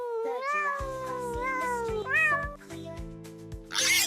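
A kitten meows several times in drawn-out, rising and falling cries, close and clear over soft background music.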